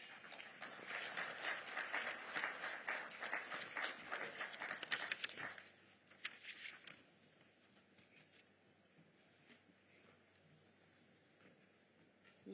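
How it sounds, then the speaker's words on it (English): Conference audience at a safety and health plenary session claps for the next presenter: brisk, fairly faint applause for about five seconds, a few scattered claps afterwards, then a quiet room. "Can we applaud her?"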